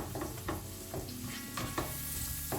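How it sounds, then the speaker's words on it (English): Onions browning in a pan for a mixed vegetable curry, a steady sizzle broken by repeated scraping stirs of a utensil against the pan at close range, no voices. "I'm gonna fry the onions, make it brown"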